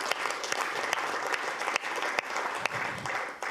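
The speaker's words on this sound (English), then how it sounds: "So a huge round of applause to Stephen and his team." Steady audience applause at a business session, dense clapping filling the room throughout with a few sharper individual claps standing out.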